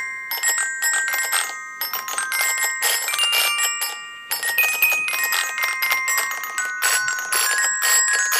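An Arduino Uno or Nano MIDI xylophone with solenoid-struck metal tubes plays a quick, bright melody of ringing bell-like notes, close and clear, with short gaps between phrases and no talking.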